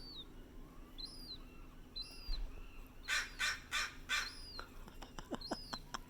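Adult seagull parent calling near a speckled chick, loud repeated raucous squawks and yelping cries in quick bursts, some sharp and clipped, heard close amid faint outdoor background.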